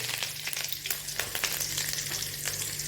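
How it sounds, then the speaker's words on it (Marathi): Curry leaves drop into a hot cumin and oil tempering and spit in a steady, fairly quiet frying sizzle with small crackling pops. Nobody speaks. "इथे आपण आता जिरं आणि तेलाची फोडणी केलेली आहे याच्यात मी आता कढीपत्तासुद्धा घालणार आहे"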